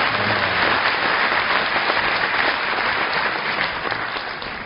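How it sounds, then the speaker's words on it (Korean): Loud, dense applause from a large audience at a 2013 university entrance ceremony and orientation, a continuous roar of clapping that fades slightly toward the end. "앞으로 다시 한번 큰 박수 부탁드리겠습니다"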